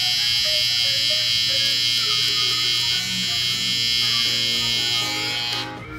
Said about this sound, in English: The trimmer basically acts as a way to connect the skin line into the rest of the hair.